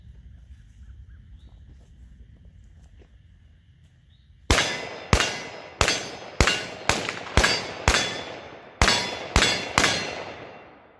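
Rifle rounds strike an AR550 steel target at short range after a quiet stretch: about ten sharp metallic clangs ringing out in quick, slightly uneven succession, each with a bright decaying ring, loud and alone.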